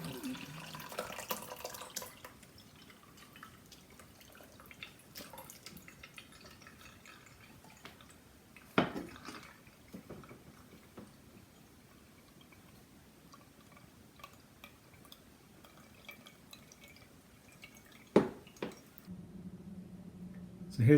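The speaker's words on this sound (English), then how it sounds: "now I'm going to separate out the juice from the skins" Red juice from Malbec grape skins soaked in alum dripping and trickling as the skins are strained, faint close drips and light liquid sounds with a couple of sharper knocks.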